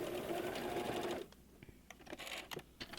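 A sewing machine stitching a seam on a plush stuffed-toy pattern whirs steadily and close for just over a second, then stops, followed by faint clicks and handling sounds.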